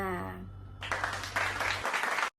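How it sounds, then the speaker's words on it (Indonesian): Schoolchildren in a classroom clap for two presenting groups; a voice and low hum fade out first, then a dense patter of many small hands rises and stops abruptly. "Ayo beri tepuk tangan anak-anak untuk kelompok 1 dan kelompok 2."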